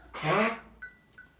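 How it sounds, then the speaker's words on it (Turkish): Goat bleating at a village farm in Gördes, a single drawn-out wavering cry followed by two short faint calls, close and alone. "Aynen kuzu değil. Keçi."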